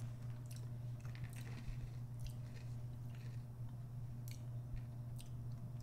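Someone chews a mouthful of dry Pop-Tarts cereal from a bowl, with soft crunching and squishy bites close to the mic over a steady low hum.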